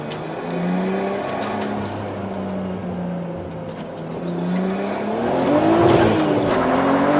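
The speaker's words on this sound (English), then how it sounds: "that was the rear tires breaking loose all the way through second gear" A Nissan Skyline ECR33 pulls hard through second gear as its rear tires break loose, heard from close by. The engine drones loud and steady, then its pitch climbs toward the end, with no talking.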